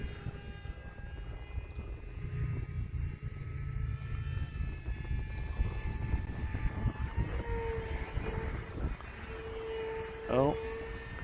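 A small Hobbyzone Aeroscout S RC plane flies outdoors, its electric motor a thin, steady drone at moderate distance, with wind noise and a brief rising whine near the end.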